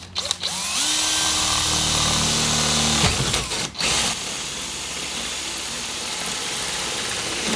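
A power drill whines up to speed and bores a one-inch hole through a van roof, its motor tone droning for a few seconds before a pause and a stretch of rapid, rhythmic cutting chatter.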